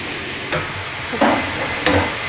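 Onions frying in oil in a pan give a steady sizzle, broken by a few brief stirring scrapes and bursts of hiss.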